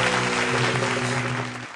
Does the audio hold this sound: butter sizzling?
no